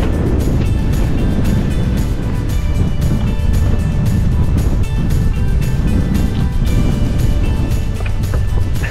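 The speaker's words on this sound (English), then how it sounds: "The wind's probably about 35 miles an hour now. So it's getting a bit breezy." Strong wind gusting at about 35 mph near the top of England's tallest mountain, a loud, steady roar buffeting the microphone throughout with no break.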